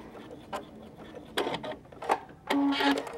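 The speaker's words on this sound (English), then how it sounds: "I'm just going to continue to sew." A sewing machine stitches a pillow in short bursts, whirring and clattering up close with brief pauses between runs, one burst carrying a steady motor whine.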